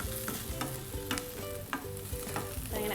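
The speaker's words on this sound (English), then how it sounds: "we're gonna add our onion, let that sizzle" Onion hitting a hot pan for turkey stuffing, a soft steady sizzle broken by several scraping stirs, fairly quiet with no talking.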